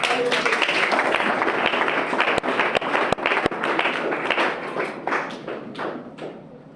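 A church congregation applauds during a Sunday worship service, a broad dense wash of clapping with a few sharp louder claps, tapering off toward the end.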